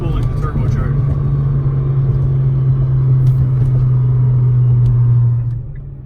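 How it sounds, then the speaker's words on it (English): A 1000HP Nissan GTR idles and holds a steady, loud engine drone as its turbocharger spools, the tone sustained before easing off at the end. "it's extremely effective at spooling the turbocharger"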